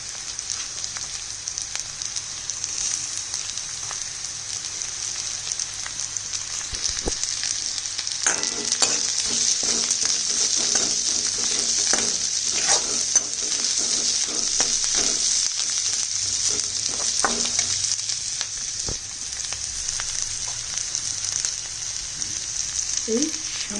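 Chopped carrots and onion fry in a pan, giving a continuous hiss and sizzle with occasional stirring clatter, moderately loud and close.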